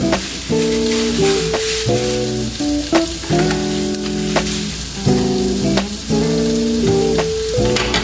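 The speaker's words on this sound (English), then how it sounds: "Just let this saute for just a few minutes." Seasoned neckbone and oxtail sauteing in a pot make a steady, close sizzle throughout, with a few sharp stirring clicks, while melodic background music plays over it.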